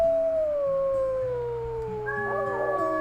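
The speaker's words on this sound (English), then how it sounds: "Let's do a howl just to gather everybody up here." Wolves in the WolfQuest video game howl together, one long falling howl followed by several overlapping voices rising and holding in chorus, clear and prominent over a soft background music bed.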